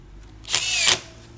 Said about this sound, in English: Drive your screws.